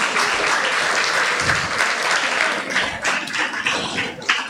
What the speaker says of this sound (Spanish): los despedimos con un caluroso aplauso